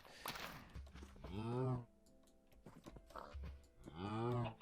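Cows moo in a Minecraft farm, three drawn-out, fairly loud moos spread across the moment with quiet clicks and faint game sounds between them.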